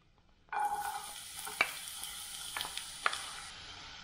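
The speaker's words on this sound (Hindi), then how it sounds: "प्याज को घी में तब तक सेकना है जब तक यह हल्का सा ब्राउन नहीं हो जाए" Chopped onion hits hot ghee for street-style cheese Maggi, starting a loud, steady sizzle after half a second, with a few sharp clinks of a spoon against the pan over the frying hiss.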